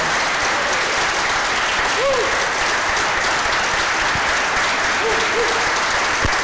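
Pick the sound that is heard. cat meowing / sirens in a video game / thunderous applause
thunderous applause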